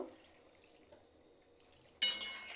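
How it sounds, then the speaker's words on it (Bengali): Water is poured into a pot of curry, a sudden close gush of splashing liquid that arrives after a quiet stretch and continues to the end, with no talking. "এই যে অল্প করে জল দিয়ে দিলাম"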